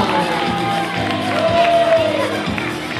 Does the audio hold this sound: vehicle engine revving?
no